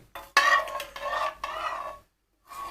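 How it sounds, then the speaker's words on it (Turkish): A utensil scrapes and knocks around a pan while a hot Breaking Bad-style candy mixture is stirred, in several rough bursts with a short pause, close and fairly loud. "Şöyle bir karıştıralım."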